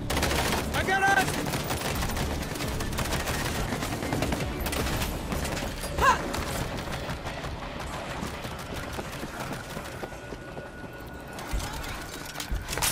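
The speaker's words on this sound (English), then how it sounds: "Auto turret ready. This will slow him down." Auto turret gunfire in the World War Z Aftermath video game, a rapid, continuous fusillade of shots with game chatter and effects mixed in throughout.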